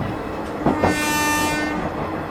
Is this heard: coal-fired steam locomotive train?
yes